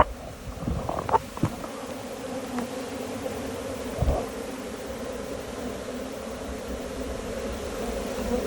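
A swarm of honey bees hums and fans continuously, a steady droning buzz with a few brief louder passes close by.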